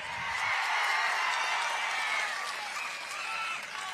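A crowd at a political rally claps loudly and steadily in a sustained, even burst of applause that fades slightly near the end, with faint voices underneath.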